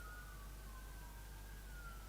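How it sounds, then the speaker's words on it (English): Faint emergency sirens wail steadily in the distance over a low background rumble, with a slowly drifting pitch and no talking. "There's quite a lot of ambulances or police cars or possibly fire engines."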